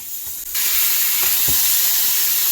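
Bacon, about twelve ounces, frying in a pan with a steady loud sizzle that jumps up after a brief pause, a few soft clicks and knocks underneath, no voices.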